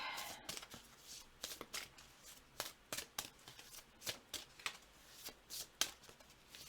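Oracle cards being shuffled by hand, a quiet, close series of soft riffling flicks and taps repeating in an irregular rhythm, with no voices over it.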